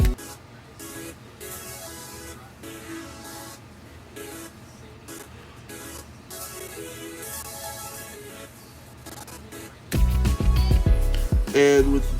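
Plucked synth chords from a Triton preset called Noisy Stabber bounce in a short, choppy pattern over a low, steady beat in a 2000s swag-style track, before a much louder, fuller section cuts in near the end.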